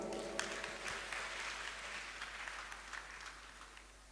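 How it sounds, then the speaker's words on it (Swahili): Audience applause at a university convocation ceremony for young performers who just sang, a broad steady wash of many hands clapping at moderate distance, sustained for the whole stretch with no talk over it. "Tuwapigie makofi."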